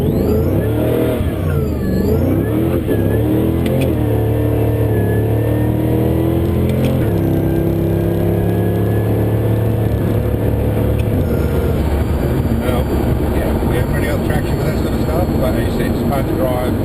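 A Holden VE Maloo ute with a 402 LS2 V8 and 4L80 automatic pulls away from a standing start, engine revving and climbing through gear changes, loud and close, with a voice talking over it.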